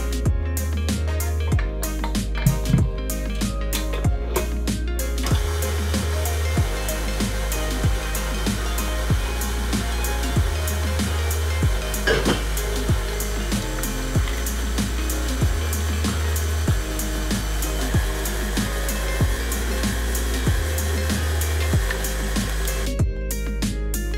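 A stand mixer beats choux pastry dough in its bowl, giving a steady motor whirr that runs for most of the stretch under background music.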